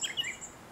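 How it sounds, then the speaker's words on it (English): Thin, high chirps from small birds, a few quick calls in short succession, faint and distant against quiet outdoor air. "I heard the birds outside while I was recording this"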